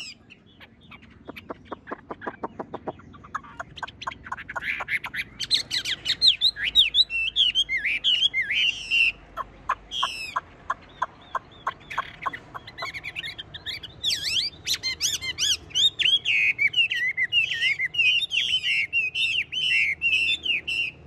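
A caged Chinese hwamei, a melodious laughingthrush, sings continuously nearby with loud, rapid, varied whistles, trills and repeated chirping phrases for about twenty seconds.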